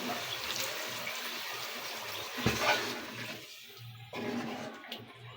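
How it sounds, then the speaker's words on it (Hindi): Water poured into a cooking pot of browned aloo gosht, a steady splashing pour that runs continuously, briefly swells louder, then resumes after a short lull. "अब हम इसमें पानी ऐड कर देंगे।"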